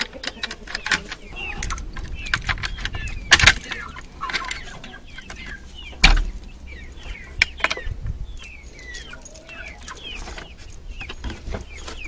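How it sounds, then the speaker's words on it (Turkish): Hens cluck and chatter steadily in a coop, with a couple of sharp metallic clanks and rattles like a latch or door being opened. "Açalım kümesimizi."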